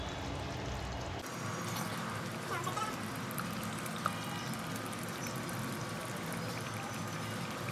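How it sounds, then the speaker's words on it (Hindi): Lentils (dal) poured into a cooking pot of mutton and bottle gourd, a steady close rushing pour lasting several seconds with a light clink near the end and faint voices under it. "अभी डाल देते हैं इसके अंदर दाल, और साथ में ये पकता रहेगा"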